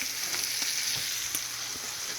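Pierogies sizzle and fry steadily in a pan, with occasional scraping knocks as they are stirred around, close and continuous with no talking.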